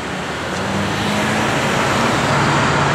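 A 1956 Chevrolet Bel Air with Goodyear wide whitewall tyres runs steadily, a constant broad engine rumble heard without any talk.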